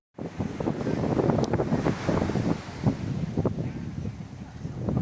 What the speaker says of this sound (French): Il y a énormément de vent. Nous sommes sur la plage.